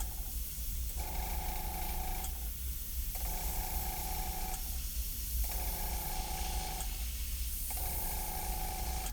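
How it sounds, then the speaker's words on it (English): Airbrush spraying paint onto a wooden eagle walking staff, a steady close hiss coming in repeated bursts of roughly a second or more, with short pauses between them. "You're gonna love doing the airbrushing."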